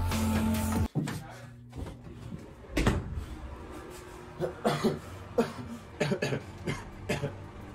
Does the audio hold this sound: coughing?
yes